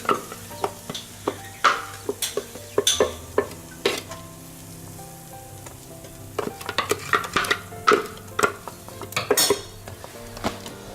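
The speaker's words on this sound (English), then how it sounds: "once you've introduced that, you stir. You start. It's like frying." Utensil scraping and clinking against a pot while egusi sizzles and fries steadily underneath, with irregular stirring knocks throughout.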